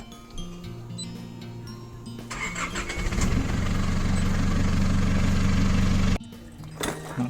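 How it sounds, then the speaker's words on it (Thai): A 2007 Isuzu 2500 common-rail diesel engine, run with engine flush added to the oil, cranks over, catches into a loud, steady rumbling idle for a few seconds, then shuts off. "จากที่เรา เติมฟัดชิ่งเข้าไป นะครับเดี๋ยวเราจะมาสตาร์ทเครื่องเพื่อทำการ ล้างนะครับ"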